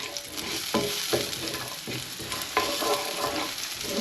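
Shallots frying in a pan with pork, a loud continuous sizzle punctuated by rhythmic scraping stirs every half second or so.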